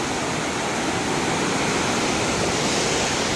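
River water flowing in Barot Valley, a loud, dense and continuous rushing roar close by, steady throughout with no voices.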